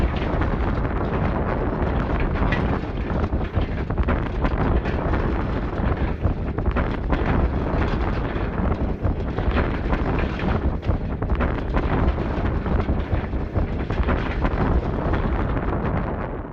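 Strong mountain wind at about 2000 metres altitude buffets the microphone in a continuous, loud, roaring rumble that never lets up.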